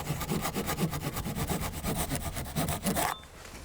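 A saw cuts away a rotted wooden window sill, with steady back-and-forth rasping strokes at a quick, even rhythm under a low motor hum. The cutting stops abruptly near the end.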